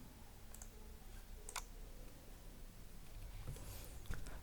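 Sparse computer mouse clicks, a few sharp isolated taps spaced over a few seconds against a quiet room background with faint handling noise.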